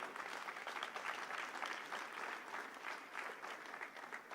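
A church congregation at a Friday service offers a round of clapping, a steady, fairly distant wash of many palms at even strength with no voices over it.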